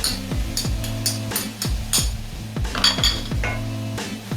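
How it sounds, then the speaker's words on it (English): A spoon scrapes and knocks steadily against a metal pot while garlic, ginger and chili paste is stirred into a vegan Bolognese sauce, giving repeated close, clanking strokes in an even rhythm with no talking. "And keep on stirring."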